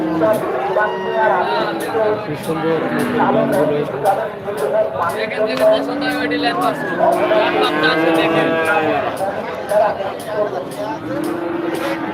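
Cattle moo repeatedly at a busy outdoor livestock market, long drawn calls overlapping amid a steady crowd hubbub, with people chattering throughout.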